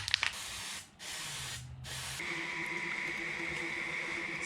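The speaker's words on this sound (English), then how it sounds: "you spray a light coating of this on to the metal first" Aerosol can spraying a light coat of Brilliance laser ink coating onto metal before engraving: two short hissing bursts with brief gaps, then a longer continuous spray hiss.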